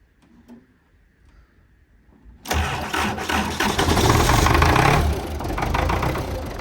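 A homemade lift's engine cranks and catches on the first attempt, then settles into a loud, steady mid-pitched idle with slight swells, after a quiet stretch holding a few faint clicks.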